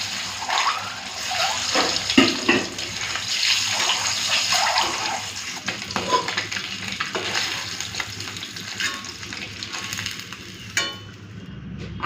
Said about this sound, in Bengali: তেলের মধ্যে নুন আর হলুদটা দিয়ে ডিমটাকে লাল করে ভেজে নেবো